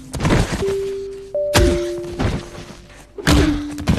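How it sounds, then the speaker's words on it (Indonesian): Punches land on Jack as he is beaten up in a cowboy film about an alien invasion: three heavy, thudding blows spaced a second or more apart, with sustained tones held between them. "Jack pun dipukuli."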